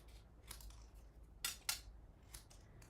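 Scissors snip through paper to cut a rectangle for a stamped card, a few quiet, crisp cuts close by in an otherwise hushed room.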